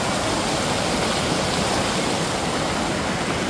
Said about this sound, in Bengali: আর এখানে দেখো একটা পাহাড়ি ঝর্ণা